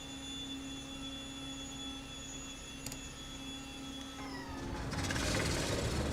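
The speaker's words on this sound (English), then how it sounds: "Got the rattle of the radial engine." Douglas DC-3 radial engine starting in a flight simulator game: a steady whining hum carries on until the engine catches and a louder broadband rumble builds near the end.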